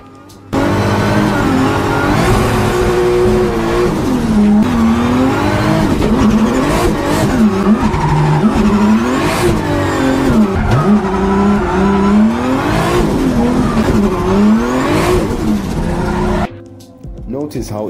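Drift car engine revving hard with sharp throttle snaps, rising and falling RPM bursts and tire squeal running continuously and loud for about sixteen seconds before cutting off, with some talk over it.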